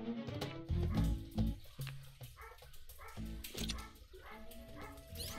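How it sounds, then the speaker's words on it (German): Several dogs barking and yapping excitedly indoors, with sharp overlapping barks, yips and whimpers in quick bursts throughout, close and fairly loud, no speech. "Meine Hunde kläffen gerade wie bekloppt."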